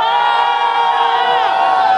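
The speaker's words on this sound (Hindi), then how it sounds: "वो लोग चिल्लाएंगे" A wedding sangeet audience shouts and cheers loudly together, a dense, sustained wall of voices with high excited whoops held steady throughout.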